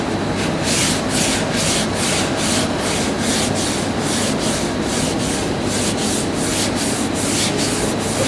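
Fine sandpaper rubs wood diagonally across a radius in steady, even back-and-forth strokes, about a dozen rhythmic passes under constant pressure, close and continuous with no voices.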